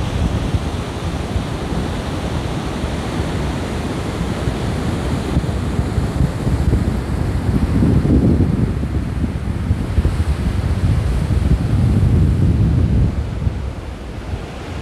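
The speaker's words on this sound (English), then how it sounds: "Check out the stunning beach here at Nature's Valley." Surf rolls and breaks steadily on the beach at Nature's Valley on the Garden Route, near a river mouth, with strong wind buffeting the microphone; a continuous loud wash swells around the middle and end, with no voices.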